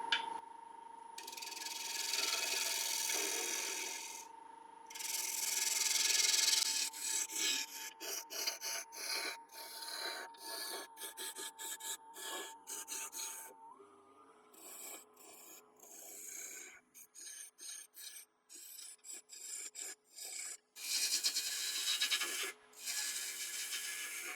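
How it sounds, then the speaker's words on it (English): A 1-inch roughing gouge cutting into scrap wood spinning on a lathe while turning a large ladle, producing a sustained rasping scrape with bursts of chattering cuts and a steady machine whine, close and uninterrupted by speech. "I'm just going to take my 1-inch roughing gouge and I'm just going to take away some of this material"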